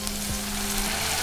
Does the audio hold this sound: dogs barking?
no